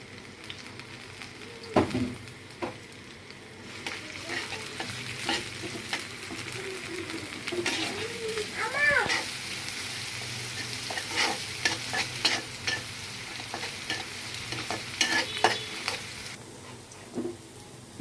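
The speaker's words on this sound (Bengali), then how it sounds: "পেঁয়াজগুলো বাদামি করে ভেজে নিয়েছি" Chopped onions fry in oil in a wok, a steady close sizzle broken by repeated scraping and clanking stir strokes throughout, with no talking.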